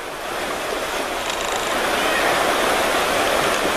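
A small stream rushes near where it joins a river, a steady, loud, broadband wash of flowing water throughout with no breaks.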